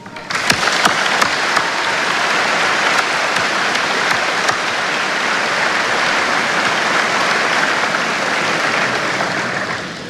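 Sustained crowd applause at the 2021 Connersville High School graduation, dense even clapping for about ten seconds with a few sharp claps at the start, no talking.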